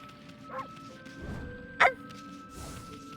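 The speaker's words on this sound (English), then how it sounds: "I love it that there's a designated bark button." A wolf's bark triggered by a dedicated bark button in the video game Ōkami gives a single short, sharp yip, heard alone over quiet game background.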